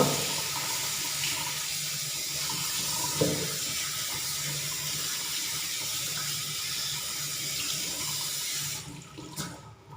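Tap water pours continuously while peeled ridged luffa gourd is washed in a sink for a country-style Thai fish curry, a steady close rush lasting most of the clip before cutting off near the end with a few knocks.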